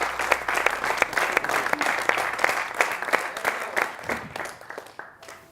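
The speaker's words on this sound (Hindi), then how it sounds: "इनके लिए जोरदार तालियां" Applause after a business presentation segment, a dense wash of many hands clapping steadily for about five seconds before tapering off at the end.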